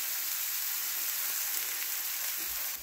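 Onions and melting butter sizzle steadily in a pan, a bright, even hiss that runs unbroken and fairly quiet throughout.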